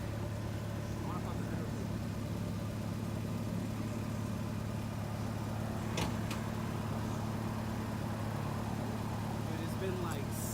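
Rebuilt Acura Integra engine running at a steady, quiet idle, a low constant hum throughout with a couple of brief sharp clicks, heard with no talk over it.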